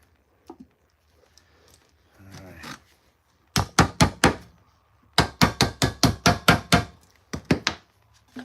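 Sharp hammer blows on wood in a prop-making workshop, heard close and loud as two quick bursts of about four strikes and then a longer run of rapid, evenly spaced whacks, with a few soft knocks before them.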